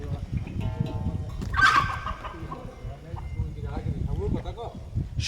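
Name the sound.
Malaysian fighter rooster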